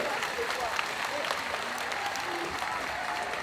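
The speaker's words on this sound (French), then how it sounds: "On les applaudit très très fort" A cosplay contest crowd claps steadily in dense, sustained applause, with faint voices mixed in under the clapping.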